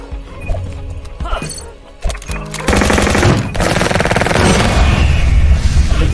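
Loud gunfire in a Y8 shooting video game: scattered shots at first, then a dense, sustained rapid-fire burst continuing to the end.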